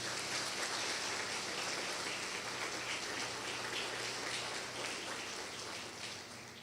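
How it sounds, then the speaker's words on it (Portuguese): Congregation clapping in praise to Jesus at an evening church service, a continuous, even wash of many hands that sounds almost like heavy rain, sustained throughout and gently tapering near the end. "Louve a Jesus com a salva de palmas"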